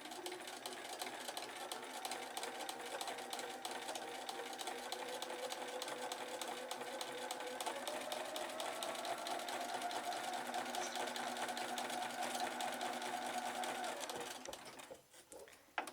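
A sewing machine stitching quarter square triangle quilt units runs continuously with a fast, even mechanical whirr close by, then slows and stops near the end.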